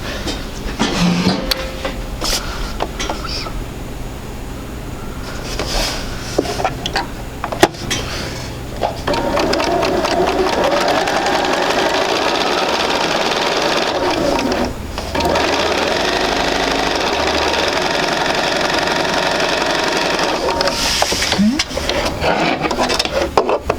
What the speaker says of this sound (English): I'm going to start and sew all the way down.